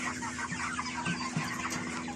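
Several 5.5-week-old meat chickens cluck softly nearby in short, scattered bursts over a steady background hum.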